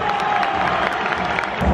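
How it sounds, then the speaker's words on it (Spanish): A stadium crowd at El Campín applauds and cheers as a player is substituted during a Millonarios vs Defensa y Justicia CONMEBOL match, a dense, steady wash of clapping and crowd noise heard from within the stands. "Se va Cataño aplaudido"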